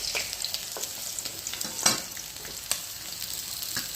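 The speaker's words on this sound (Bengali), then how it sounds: "মাছটাকে আগে ভেজে নিই।" Fish sizzles in a frying pan with a constant crackling hiss, broken by occasional scrapes and taps as it is stirred or turned, close up and without talk.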